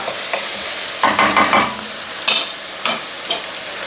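Onion, ginger and garlic caramelizing in a pan for lamb curry, a close bright sizzle with bursts of stirring and spatula scrapes, no talk.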